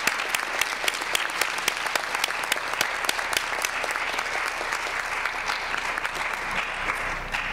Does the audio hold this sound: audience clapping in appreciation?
yes